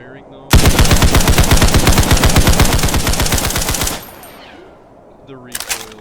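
Rapid automatic gunfire in the Roblox shooter Criminology, a loud, close burst of evenly spaced shots lasting about three and a half seconds, then a faint tail and a brief second burst at the end.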